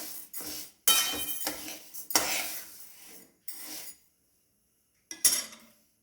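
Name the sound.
lightly roasting urad dal in a pan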